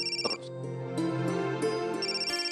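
A phone ringtone plays as a melodic electronic tune with chiming notes, fairly loud and continuous, with no one talking over it.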